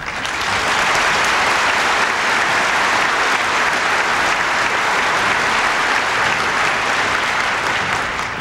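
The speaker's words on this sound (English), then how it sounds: "Some of the congressmen here at the head table are applauding that also." An audience at an Economic Club event gives President Reagan sustained, dense applause that stays loud and even for several seconds, with no speech over it.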